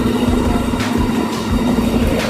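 A Mercedes-Benz engine in an ALS intercity bus roars steadily nearby, a loud low rumble with a constant hum and no voices.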